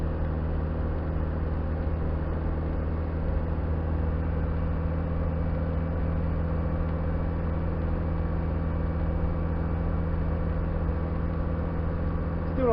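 Land Rover Discovery 300tdi diesel engine drones steadily while driving in fourth gear at about 80 km/h, a constant low hum heard from inside the cabin with no talking.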